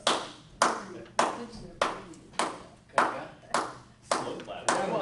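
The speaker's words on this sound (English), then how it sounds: "Slow clap." A single person does a deliberate slow clap at a city council meeting, about nine evenly spaced, close, sharp hand claps, each ringing briefly in the room.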